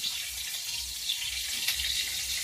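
Water running steadily into a container outdoors, a soft continuous hiss and trickle, fairly faint and without voices.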